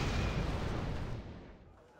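Missile strikes blowing up amphibious landing craft during a Wargame: Red Dragon battle: a heavy, close explosive boom opens the moment and then rumbles away to a fading tail over about two seconds.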